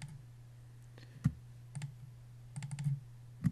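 Computer mouse clicks at a desk during CAD software use, faint quick clicks including a double click, over a low steady hum.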